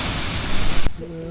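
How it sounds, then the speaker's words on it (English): A waterfall in a canyon on a bog walk gives off a dense, steady roar heard up close for under a second before cutting off abruptly into a much quieter background. "it's quite a waterfall that"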